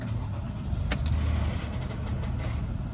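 Toyota Highlander engine turning over and settling into a steady idle right after an oil change, a continuous low rumble heard from close by, with a few faint metallic clicks and no voices.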